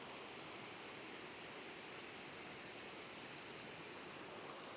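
Flowing water rushes in a soft, unbroken hiss, like a distant waterfall feeding a creek at Wadsworth Little Falls in winter, steady and faint with no voices.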